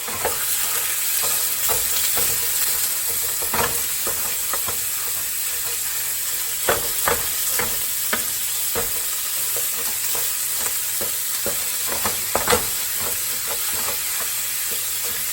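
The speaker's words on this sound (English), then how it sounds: "a pound of my ground beef. And just break that up." A pound of ground beef sizzling in a pan under a steady frying hiss, with intermittent scraping and tapping as a utensil breaks the meat apart.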